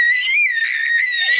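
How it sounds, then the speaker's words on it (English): A young girl screams on purpose for fun, a loud, sustained high-pitched shriek that wavers in pitch and lasts about a second and a half, close to the microphone and heard alone. "She has started screaming just for fun."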